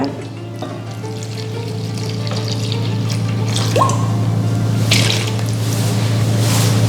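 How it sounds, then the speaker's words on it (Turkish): Milk poured into a dough mixture for Cypriot halloumi bulla in a kitchen, a steady liquid splash and trickle over a constant low hum, with small drips and clinks, no talk. "Sütümüzü ekliyoruz."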